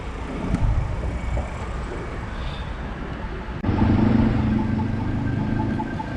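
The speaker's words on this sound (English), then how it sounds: "shitloads of traffic, isn't there?" Busy street traffic in Gdańsk, Poland: a steady, continuous wash of passing cars and idling engines nearby, growing louder and heavier partway through as a larger vehicle's low rumble joins in, with no talking.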